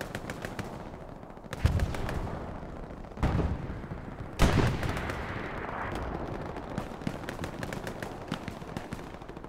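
Heavy gunfire and sharp cannon blasts from tanks ring out in a World War II shooter battle around Sainte-Marie-du-Mont, with rapid machine-gun bursts rattling continuously and several loud booming shots punctuating it.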